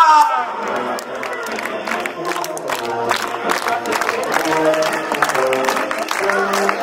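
An audience at a birthday performance claps and cheers, a dense continuous patter of applause with shouts mixed in, loud and close, and voices call out through the crowd noise.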